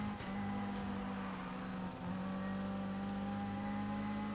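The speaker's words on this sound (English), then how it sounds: "if you listen really closely, you can kind of hear the hybrid. It's kind of like a little bit of a whine, like a high pitched whine" Hybrid engine of a Polestar 1 in the video game Need for Speed Heat, a steady droning hum with a faint high-pitched whine layered on top, briefly dipping once before holding constant.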